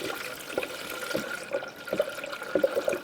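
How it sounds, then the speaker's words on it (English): Coolant being poured into a Hyundai Accent cooling system: soft, close trickling and glugging liquid with small irregular splashes, quiet and steady. "pouring it in."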